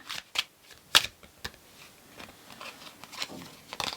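A deck of tarot cards is shuffled up close in quick riffling bursts and sharp flicks, with a few louder snaps early on and softer rustling cascades after.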